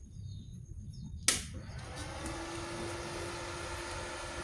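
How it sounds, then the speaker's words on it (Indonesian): A gasless MIG welding machine switches on with a sharp click, then its cooling fan and transformer settle into a steady low hum and whir that continue to the end. "Pertama, saya akan nyalakan untuk mesinnya."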